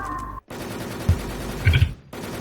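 Bursts of gunfire in a video game, with short rapid volleys of shots clustered together and brief silent gaps between them, no talking over them.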